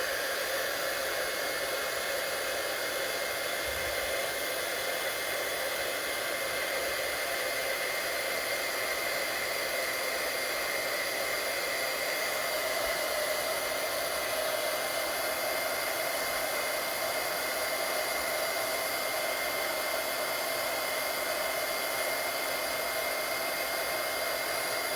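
A heat embossing tool blows steadily while melting embossing powder on a handmade card, a loud, constant airy whoosh with a faint whine, sustained without pause and with no talking.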